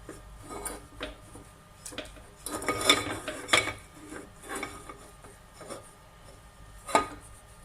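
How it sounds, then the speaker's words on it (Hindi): A lightly heated metal pan is greased with butter, giving scattered metallic scrapes, clinks and rasping strokes at an irregular rhythm, fairly close and moderately quiet, with no talk. "बर्तन को मैंने गरम कर लिया था हल्का सा और इसको अच्छे से ग्रीस करेंगे बटर के साथ"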